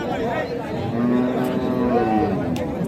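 A cow gives a long, drawn-out moo at a busy cattle market in Raniganj, loud and near over a steady background of crowd chatter and voices.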